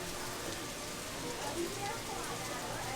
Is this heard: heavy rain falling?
yes